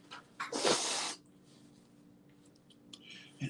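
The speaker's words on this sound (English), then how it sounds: "I can't blow my nose like I want to because of my surgery." One person blows their nose gently into a single ply of tissue, a short, soft, breathy burst near the start followed by quiet sniffly rustles, faint and close.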